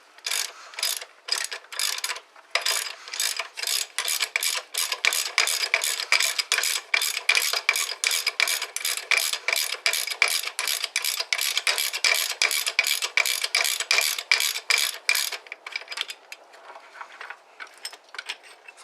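Ratchet wrench working loose threaded studs during a Banks intercooler job, a fast, close series of sharp clicking ratchet strokes in steady rhythmic bursts, briefly pausing, then fading into lighter clicks.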